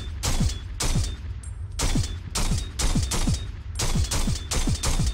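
Repeated gunshots from a shootout in the video game Reservoir Dogs, loud sharp bursts firing in an uneven rapid rhythm across the whole stretch.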